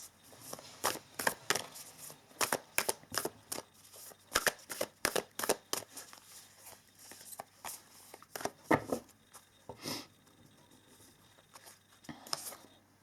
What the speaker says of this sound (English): let us pull some oracle cards here.